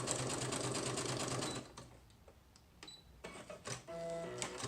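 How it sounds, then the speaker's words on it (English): A sewing machine stitches through junk journal pages made from torn book pages, a fast loud rhythmic whirring for nearly two seconds, then quieter clicks, handling noises and a short burst of stitching near the end. "Okay, so I'm going to sew this in."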